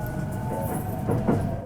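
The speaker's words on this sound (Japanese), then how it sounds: "18時12分、こうして津駅を発車です。" Kintetsu Hinotori limited express train pulling out of Tsu Station, a steady low rumble with faint rail clatter and a slight swell toward the end, heard from on board.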